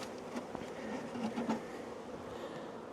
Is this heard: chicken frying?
no